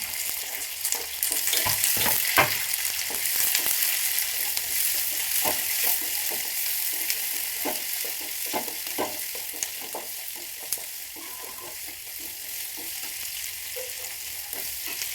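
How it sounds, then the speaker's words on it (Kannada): Onion and curry leaves with peanuts fry in oil, producing a loud, dense sizzle with repeated scraping stirs, close by and continuous, with no talk. "ಅದಕ್ಕೆ ಆನಿಯನ್ ಮತ್ತು ಕರಿಬೇವು ಆ್ಯಡ್ ಮಾಡಿದೆ. ನೀಟಾಗಿ ಆಯಿಲಲ್ಲಿ ಫ್ರೈ ಆಗೋ ಹಾಗೆ"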